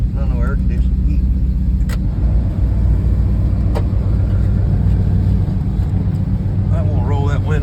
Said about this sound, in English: we're waiting for the engine to come up temperature